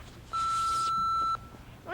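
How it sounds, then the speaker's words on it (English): A single long electronic beep, steady and clear, lasting about a second before fading into quiet room tone. "do your thing when you hear the beep"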